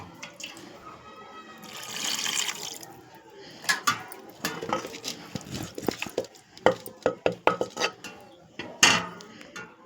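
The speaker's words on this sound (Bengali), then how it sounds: "আমি এবার একটু সামান্য জল দিয়ে দেবো" Water poured into marinated beef in a pan while cooking a beef and cabbage dish, a soft splash and trickle followed by scattered clinks and scrapes of a utensil against the cookware.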